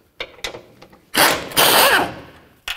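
A ratchet removes 14 millimeter strut nuts on a 2010-2015 Kia Sorento, with a few sharp clicks followed by two loud, close bursts of rapid ratcheting and a final click.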